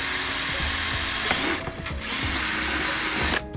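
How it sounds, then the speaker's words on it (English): A power drill bores a hole while fitting a diffuser to an Audi A3 8P, its steady high whine running loud and close for most of the time, dipping briefly midway before resuming and cutting off near the end. "Let's drill that first hole out."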